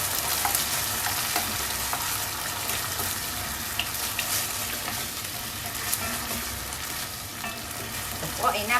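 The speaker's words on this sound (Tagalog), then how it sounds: "Lalagay na po natin ang ating 555 sardines." 555 brand sardines fry in a hot pan for a Filipino miswa and patola dish, a steady dense sizzle and crackle close up, with occasional scraping stirs and no talking.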